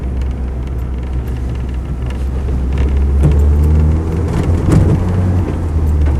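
A Land Rover 110 station wagon engine rumbles at a steady idle, then builds in low, heavy revs as the vehicle pulls away.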